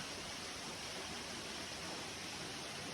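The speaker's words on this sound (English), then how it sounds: "I've seen a lot of hail throughout my travels, but the sheer volume and unrelenting pace of this stuff was truly remarkable." Heavy hail pours down nonstop in a storm in Mexico, a dense, unbroken roar of ice and water striking everything nearby, steady and loud throughout with no voices.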